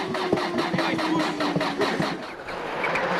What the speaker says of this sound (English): Melvin Evans, who stalls here, is soon to retire from 5th with engine woes.